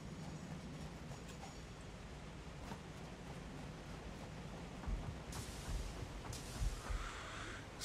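A train rolling along rails in the video game Satisfactory, a low steady rumble heard close by, with a hissing rush rising in the last few seconds as it passes.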